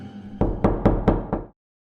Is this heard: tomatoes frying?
no